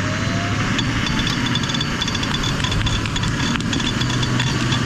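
A truck engine runs roughly, a loud close mechanical drone with uneven knocking and rattling that continues steadily for several seconds without any talk.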